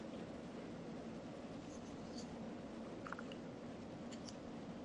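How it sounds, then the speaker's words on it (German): A long roller coaster train rolls along its track in RollerCoaster Tycoon 3, a steady, even rumbling drone lasting throughout with a few faint clicks on top. "Da dauert es natürlich, bis er in Fahrt kommt, wenn der Zug so lang ist"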